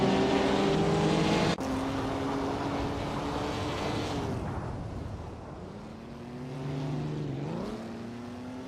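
A 1955 Maserati 300S race car engine in a racing video game, a loud sustained drone whose pitch sweeps up and down through gear changes, with a sharp shift near the start and other cars faintly mixed in.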